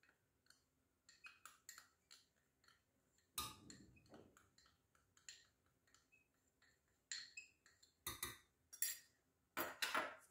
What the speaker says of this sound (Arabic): كنخلطو مزيان هاد المكونات